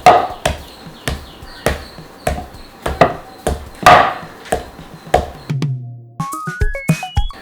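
Repeated heavy thuds of flour being pounded for homemade papad, steady and close, about two per second, then a short hum and a few rising electronic tones.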